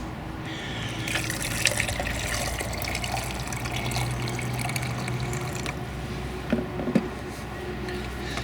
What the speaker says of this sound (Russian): наливаем горячей водички